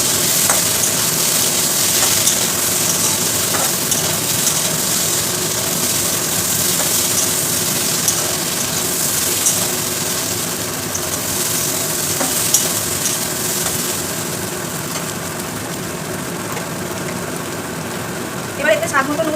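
Four large boiled potatoes and two slit green chillies cook in a pan. A continuous frying sizzle runs steadily throughout under a low rumbling hum, with occasional faint stirring scrapes and a brief crackle near the end.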